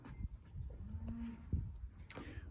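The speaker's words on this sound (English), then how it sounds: "you can hear some cows back there" Cows low in the background, a single drawn-out moo in the middle and a shorter one near the end, moderately distant and carried over a rustling outdoor ambience.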